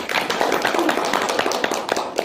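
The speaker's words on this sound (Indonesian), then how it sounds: "tepuk tangan untuk semuanya." Students in a university microteaching class clapping together in dense, close applause for about two seconds.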